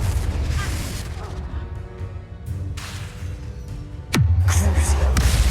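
A Confringo blasting spell goes off in Hogwarts Legacy: a sudden sharp crack followed by a deep, rumbling boom that lingers, rising out of steady game noise.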